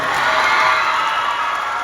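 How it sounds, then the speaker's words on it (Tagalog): An audience at a live comedy show in Siaton, Negros Oriental, cheers and claps in a loud, continuous roar of shouting and applause with no pause. "Gusto kong marinig ang palakpakan na may dalang hiyawan ng shaton"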